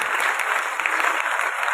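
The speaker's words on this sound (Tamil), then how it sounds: "தயவு செய்து இருமுறை கைதட்டுங்கள்." An audience applauds steadily throughout, a dense wash of many hands clapping with no pauses and no voices standing out.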